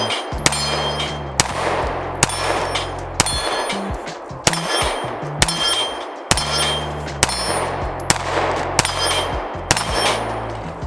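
A BUL Armory SAS II Ultralight compact pistol fires at an outdoor range, about a dozen loud, sharp shots in a fairly steady rhythm, each followed by a ringing metallic clang and echo.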